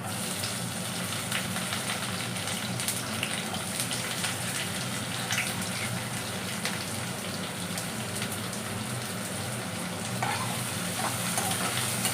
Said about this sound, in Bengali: এইবার এটাকে আস্তে করে একটু কয়েকটা সেকেন্ড আমি একটু ভেজে নেব।